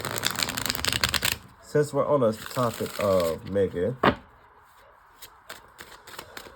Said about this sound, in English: I'm gonna go ahead and shuffle these while I'm talking.